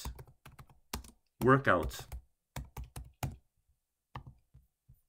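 Keyboard clicks as someone types a word into a text box while designing a fitness workout graphic, quick close taps in short bursts with brief pauses, and a voice briefly speaking between them.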